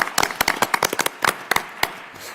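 Sparse clapping from a small group at a school district board meeting, a dozen or so irregular sharp claps spread over a couple of seconds before fading.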